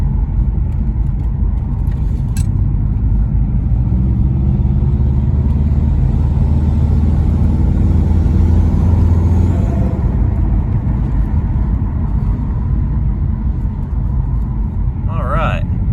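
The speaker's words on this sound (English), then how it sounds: "No leaking boost. The blow-off valve relieves." A Subaru Outback XT turbo engine fitted with an adjustable blow-off valve rumbles loudly and steadily throughout, a heavy low drone from close by, with one brief faint hiss near the end.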